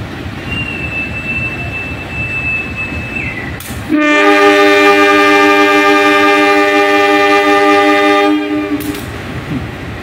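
A CC 203 locomotive on an Indonesian railway line sounds a loud, sustained multi-tone horn blast lasting several seconds, over the constant rumble of a moving train heard from on board.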